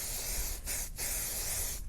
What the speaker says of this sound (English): Okay, so I just sprayed the surface of the stencil.